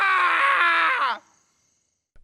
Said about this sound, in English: screams in frustration